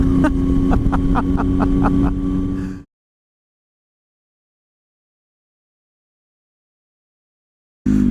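A Triumph Tiger motorcycle filters through traffic, its engine droning steadily with rhythmic pulses for about three seconds before cutting to silence, then briefly returning at the very end.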